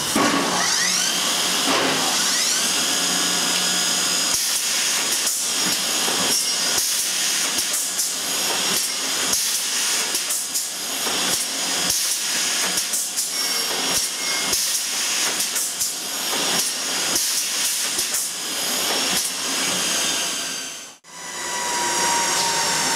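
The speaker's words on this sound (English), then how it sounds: "we've moved it in to cut a narrow piece of, small piece of trim, and we have a small piece of trim to cut" Norfield 1020 double end trim saw cutting a small, narrow piece of trim. A loud, steady machine roar and hiss runs throughout, with a brief dip near the end.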